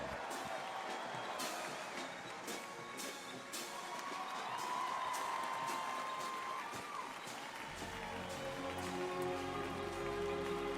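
Crowd applauding an Army ceremonial band at an outdoor Army 250th anniversary festival and parade; steady, dense clapping like rain that runs the whole stretch, with crowd noise mixed in.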